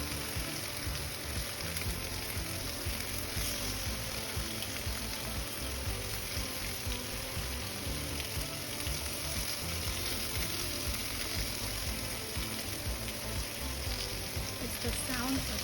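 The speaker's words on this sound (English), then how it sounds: "Listen to that sizzle." Steady, dense sizzling of lamb ribs searing in a hot pan, a constant crackling hiss that carries on without pause and without voices.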